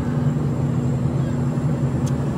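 Airplane cabin ambience, a steady low engine drone and broadband air hiss filling the space, constant and even throughout with no clear speech.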